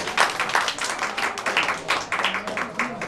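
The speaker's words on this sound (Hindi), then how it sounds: "सबसे ज्यादा इनके लिए ताली" A classroom group claps for the top-scoring team at a quiz, with a brief burst of scattered, moderately loud applause mixed with voices.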